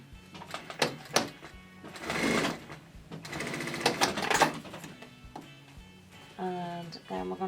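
A home sewing machine hems a small edge on a pleated fabric face mask. Close and loud, it runs in several bursts of rapid mechanical stitching separated by brief pauses and handling noises.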